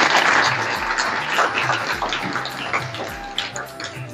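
Applause welcomes a sangh leader at a Jain pilgrimage gathering at Shikharji, a dense, steady burst of many hands clapping at close range that starts loud and gradually thins over a few seconds.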